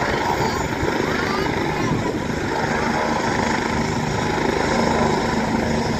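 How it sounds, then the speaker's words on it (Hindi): A helicopter lands close by with a loud, steady rotor beat and engine whine that fill the whole stretch. "ये देखिए हेलीकॉप्टर आज भी उतरा है।"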